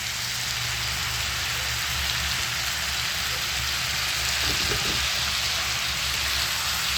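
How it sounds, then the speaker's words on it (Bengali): Ridge gourd and potato chunks frying in hot oil with tomato and prawns give a dense, even crackling hiss that holds steady and close throughout, with no voices. "দেখুন, তার জন্য ঝিঙে আলু তেলেতে ভাজছি"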